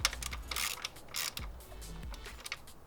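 Bolts on the intercooler brace of a Subaru WRX are tightened with a ratchet, giving faint clicking pawl sounds and small metallic taps, close by with no talk.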